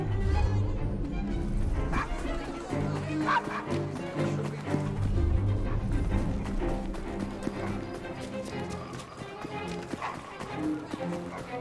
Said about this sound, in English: Here's a good doggy.